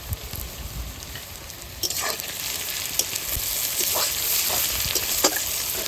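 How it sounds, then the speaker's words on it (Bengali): Onions sizzle in a pan of oil with salt added, crackling steadily up close and growing slightly louder, with scattered sharp pops and stirring scrapes. "পেঁয়াজটা সুন্দর করে ভেজে নিচ্ছি"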